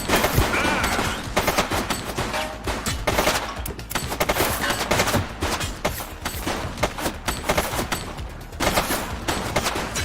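Sustained gunfire in the police game The Precinct: dense, rapid automatic bursts and overlapping shots, loud and close, filling the whole stretch with only brief dips.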